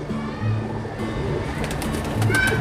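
High flyer pigeons cooing in a loft, two low, soft coo phrases heard close by against a steady background hum.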